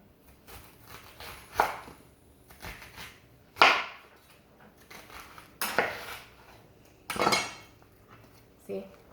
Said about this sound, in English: I'm going to cut nice thick slices so they're easy to do on the grill